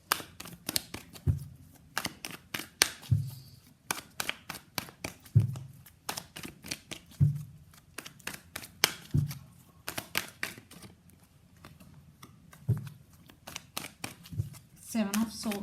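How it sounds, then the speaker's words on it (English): Tarot cards being shuffled give repeated bursts of papery riffling and soft slaps, close and quiet, with short pauses between the rounds. "So let's pull some cards from universe where this connection is headed on and the outcome."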